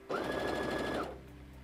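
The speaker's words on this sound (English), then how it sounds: "It's a really nice sewing machine with 100 built-in stitches." A computerized sewing machine with 100 built-in stitches runs a short stitching burst of about one second, an even whirring hum close by, then winds down into quiet.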